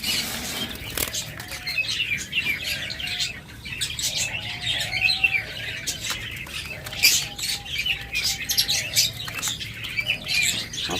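Pairs of pet birds in a colony kept for sale give a steady chorus of chirps, tweets and occasional squawks, with a repeated short whistled call running through it and a low background rumble.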